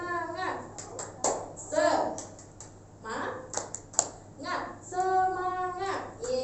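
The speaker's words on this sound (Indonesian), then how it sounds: "Yuk, tepuk semangat." Eighth-grade class doing a rhythmic spirit clap in a classroom, short bursts of clapping mixed with children's voices chanting and a teacher speaking.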